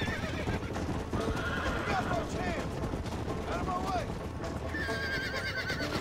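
A horse neighs repeatedly in Red Dead Redemption on Xbox 360 over a busy game soundscape with clattering hooves and gunfire-like bursts, the whinnies rising and falling in several short calls.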